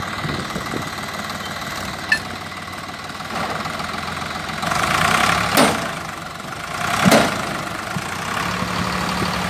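Swaraj 735 FE tractor labouring in a muddy, waterlogged field after overnight rain, its diesel engine idling with a knocking throb and swelling in louder revving surges near the end.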